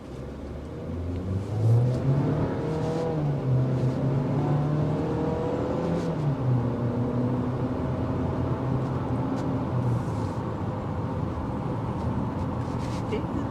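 The turbocharged engine of a 2024 Chevrolet Equinox RS accelerates from inside the cabin, its drone rising in pitch over several seconds before settling into a steady hum of road and engine noise.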